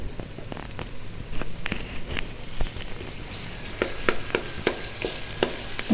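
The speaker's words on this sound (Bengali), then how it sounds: "এখানে আমি পেঁয়াজ, রসুন, গরম মশলা সব ভেজে নিতেছি তেলের ভিতরে" Onion, garlic and garam masala frying in oil for a potato and greens bhorta, a close, continuous sizzle broken by scattered clinks and scrapes of stirring, with no voices.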